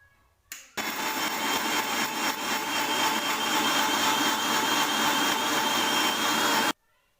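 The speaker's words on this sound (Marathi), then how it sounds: "आपण थोडंसं पाणी घालून मिक्सरला वाटून घेऊया तांदूळ" A mixer grinder grinding soaked rice with water whirs loudly and steadily for several seconds after a brief start-up, then cuts off abruptly.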